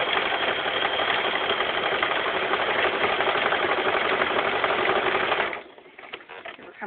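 A sewing machine stitches steadily through the layers of a T-shirt quilt, whirring loudly and evenly for about five and a half seconds before it slows and stops, leaving faint handling noises.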